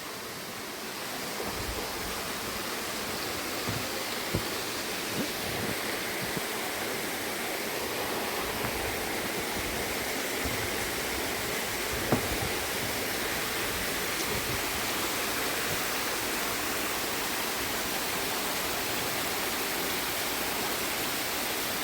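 A waterfall near a resort, beneath a small bridge, roars steadily and broadband, a constant close wash of falling water with no voices and only a few faint clicks.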